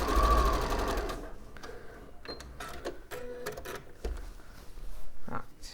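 A sewing machine stitches a sleeve into a garment, running loud and steady at first, then breaking into shorter stop-start bursts of stitching with pauses and handling noises between them.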